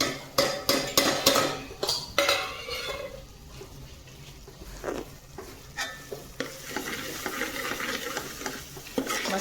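Spices being stirred into a frying pan of filling: repeated loud scrapes and clinks of a utensil against the pan at a quick, uneven rhythm over a soft continuous sizzle, close up and without speech.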